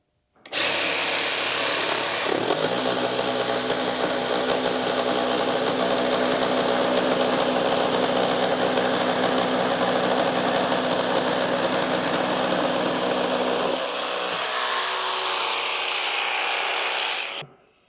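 A Festool Carvex jigsaw runs steadily and loudly while cutting wood along a guide rail, a continuous buzzing motor whine that starts abruptly, holds for about twelve seconds, then shifts briefly before stopping.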